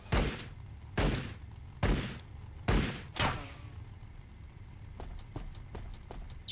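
Gunfire in a Warhammer 40,000 tabletop-style battle game between Orks and Blood Angels: five heavy, well-spaced shots with booming tails, then a run of lighter, quicker pops trailing off, with no talk.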